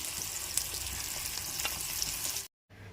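Fish frying in a pan, a steady loud crackling sizzle with scattered pops that cuts off abruptly near the end, followed by a quieter tail.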